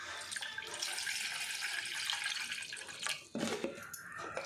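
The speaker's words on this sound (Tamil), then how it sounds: "ராகி சேமியா செய்கிறதுக்கு ஒரு இதில் கொஞ்சம் தண்ணி எடுத்துக்குவோம்" Water poured into a cooking vessel for making ragi semiya, a steady hissing splash for about three seconds that breaks off into a few brief clinks and sloshes, close by with no talk.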